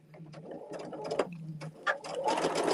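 A sewing machine stitches a quilt seam for Alice's Wonderland blocks, running in short close bursts of rapid needle chatter with brief pauses between runs.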